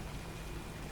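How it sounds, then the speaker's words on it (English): Steady, dense rain falls at night in the video game Alan Wake 2, a continuous close hiss of drops on surfaces with no pauses and no voices. "Night has fallen. It's raining."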